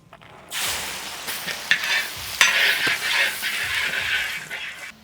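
Chopped garlic drops into hot oil for shrimp fried rice and bursts into a loud, close sizzle. Scraping stirs and a few clinks from the spoon run through the frying.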